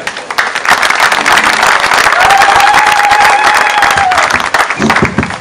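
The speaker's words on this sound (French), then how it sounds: "Vos applaudissements, s'il vous plaît." A political rally crowd applauds and cheers loudly and continuously, with a dense roar of clapping and a brief whistle-like tone rising over it midway.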